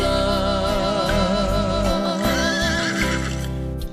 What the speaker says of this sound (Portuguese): canta o galo, berra o gado, relincha o alazão